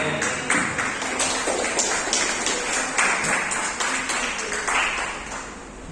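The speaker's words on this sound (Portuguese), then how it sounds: "E essas palmas são sempre para Deus, nunca para quem está aqui em cima" A church congregation claps during a Sunday service, with dense, fairly loud applause in a reverberant hall that keeps going throughout and thins slightly toward the end.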